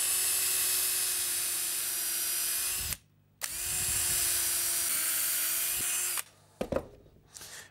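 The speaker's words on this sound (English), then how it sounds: "Using a 5mm drill bit, let's just punch that through." A power drill with a 5mm bit bores through timber for an outdoor bench seat, a loud steady whine running about three seconds, a brief pause, then another sustained burst before winding down with a few clatters.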